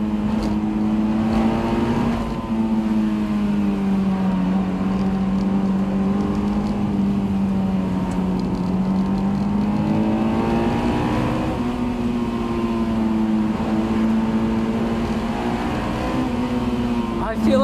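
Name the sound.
Honda S2000 engine revving high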